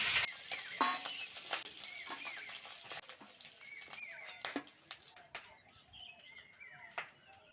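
Fish heads frying in hot oil, a steady close sizzle with stirring clatter throughout, and bird calls and background voices mixed in.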